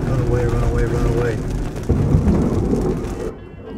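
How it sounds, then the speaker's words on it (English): A tornado storm from 2020 produces deep rolling thunder over heavy, hissing rain, a sharper booming rumble hitting midway, with someone talking over the storm. "The thunder from these megabolts hits you like the shockwave of an explosion."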